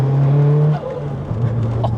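A big-turbo first-generation Audi TT engine revs hard and loud, its droning note holding steady, then dipping briefly on a short shift before climbing again, close by.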